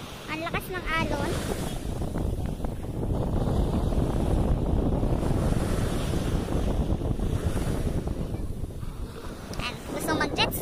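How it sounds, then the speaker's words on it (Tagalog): Strong sea waves roll and crash in a steady, loud roar with heavy wind buffeting, near and continuous, while people talk briefly over the surf. "Ang lakas ng alon."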